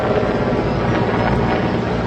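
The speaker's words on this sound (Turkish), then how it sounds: "bu Türk ordusunun bir askeri helikopteri tekrar ediyorum" A Turkish military helicopter flying over a wildfire near Manavgat, its steady rotor drone and wind roar loud and continuous throughout.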